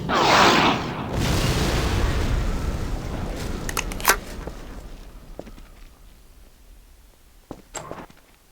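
In the video game Half-Life 2: Lost Coast, a loud booming blast opens, followed by a rumbling decay and a few scattered sharp cracks and thuds fading into quieter surroundings.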